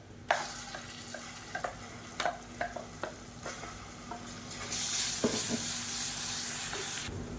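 Ground pirandai paste is stirred and fried in hot oil in a pan for a South Indian kuzhambu, with steady sizzling, scraping spoon strokes and a louder hissing surge toward the end.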